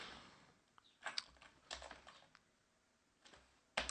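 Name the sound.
retyping commands on a computer keyboard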